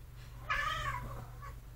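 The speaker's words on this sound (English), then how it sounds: "Cat is having a fit about something." A house cat lets out a single loud, drawn-out meow in a quiet room, followed by a fainter short mew.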